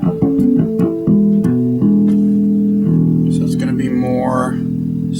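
Bass guitar played through a HAO Bass Liner BL-1 preamp with all knobs set at noon, a loud, close melodic line of sustained low notes that changes pitch every fraction of a second, with no talking.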